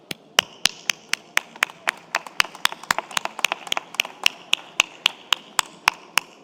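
Steady rhythmic clapping in unison at an awards ceremony, about three sharp claps per second, with a faint crowd murmur beneath the beat.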